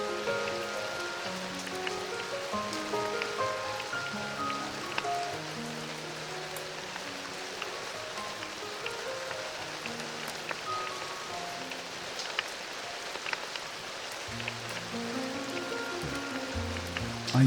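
Steady rain falls on surfaces outside an apartment, a dense continuous patter of drops with soft piano notes drifting over it throughout.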